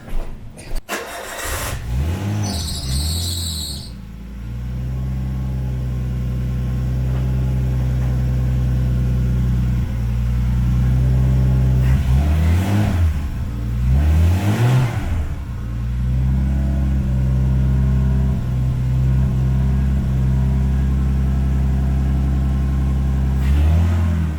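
A Nissan RB20 engine in an S14 cranks and fires up, settles into a loud steady idle, then is revved a couple of times with rising roars before dropping back.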